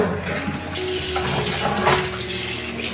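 Soaked preserved mustard greens rinsed under a running kitchen tap, a steady loud gush of water with splashing as the leaves are handled, close and with no speech.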